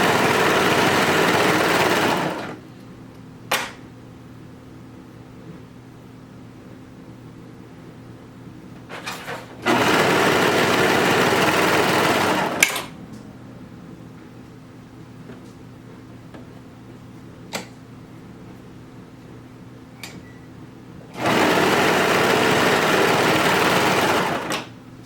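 A sewing machine stitches the side seams of skirted bummies in three loud, steady bursts of a few seconds each, with quiet pauses between runs and no talking.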